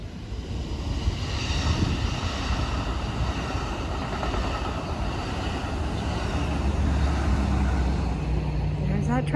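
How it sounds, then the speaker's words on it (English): A train passes at the Gaviota Vista viewpoint near the coast, producing a continuous broadband rumble that grows slightly louder toward the end. "That train again."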